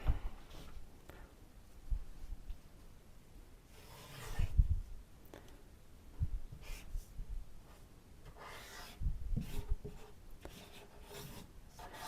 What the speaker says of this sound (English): So you can go thick, thin, nice option for if you're just scribbling.